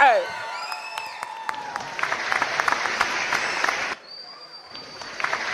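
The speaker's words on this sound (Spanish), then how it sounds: "A todo el mundo un fuerte aplauso por este show que estamos haciendo." Audience applause for a performer at an urban music show in Torrelavega, a steady wash of clapping and crowd noise that dips at about four seconds and then carries on, with a whistle-like tone over it.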